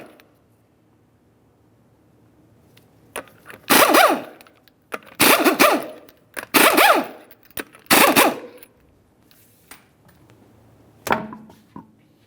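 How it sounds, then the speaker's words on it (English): Lug nuts come off a Ford Fusion wheel with five loud bursts of a rattling impact wrench, each one to two seconds long, separated by pauses with faint clicks. "we'll continue on with removing all 5 of our 19mm lug nuts and then the wheel"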